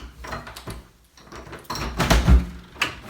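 The back door of a single-family rental house is handled close up, giving a few soft knocks and scrapes and then a heavier thud and rattle as it swings open.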